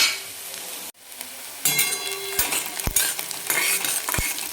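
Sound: sautéing onions in a pan

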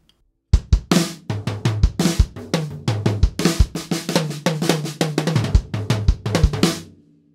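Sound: acoustic drum kit, Pearl Rhythm Traveler

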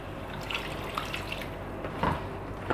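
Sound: a cup of water poured into cooking pot

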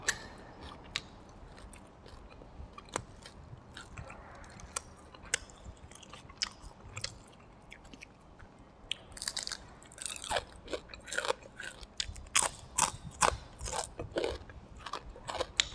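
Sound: chewing crispy fried fish

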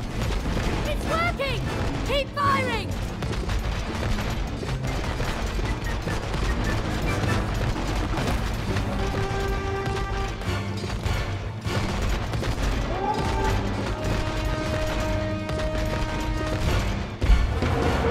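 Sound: gunfire from a video game, It Takes Two

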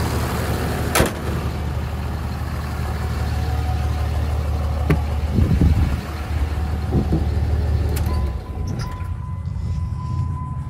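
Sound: 2005 Cummins 5.9 diesel truck with loud aftermarket exhaust

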